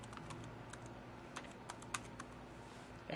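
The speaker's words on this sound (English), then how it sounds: "So I'll type in a password," A password is typed on an IBM ThinkPad T30 laptop keyboard, a quiet sparse series of soft key clicks at an uneven pace, ending with a sharper louder keystroke.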